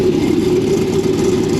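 A car exhaust fitted with a 2.5-inch MagnaFlow muffler idles steadily and close up, giving a smooth, even drone with a strong low-mid tone and no revving during the short stretch.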